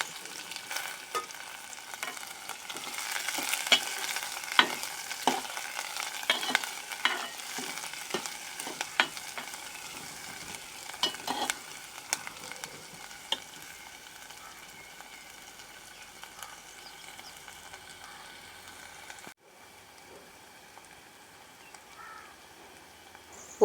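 Two long-sliced large onions frying in oil with fennel seeds and cinnamon for a chickpea gravy, a steady close sizzle broken by repeated scraping stirs, quieting toward the end with no talk.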